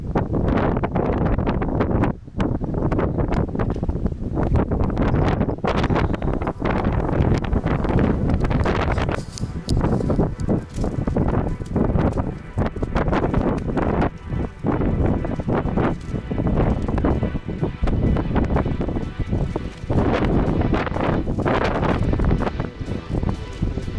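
Strong gusty wind in Anapa, Russia, buffets the microphone continuously, a loud roaring rumble with rustling bursts, nearby and without speech.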